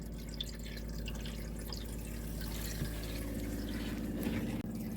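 Cold water is flushed through the pipes of a campervan's fresh water system, making a steady, unbroken rushing and trickling that holds at an even level throughout, with one brief dip near the end.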